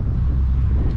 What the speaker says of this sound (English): Sorry for the wind, it's pretty windy today